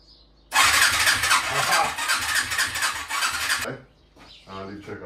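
A Suzuki ATV engine cranks and catches on a jump start with a weak battery, a loud broadband roar with a rapid chugging pulse lasting about three seconds, then cutting out before a brief voice and motor whine.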